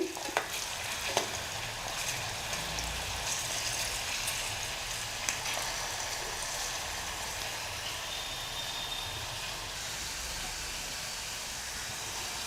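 Elephant foot yam roasting in a pan gives a steady, dense sizzle that runs the whole time, with a few light scrapes and clicks of stirring near the start and no voices.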